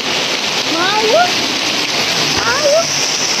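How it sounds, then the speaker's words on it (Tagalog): Steady heavy rain from a typhoon pours down with a dense, hissing roar, while a voice briefly speaks over it. "Grabe ang lakas ng ulan ng kababayan natin."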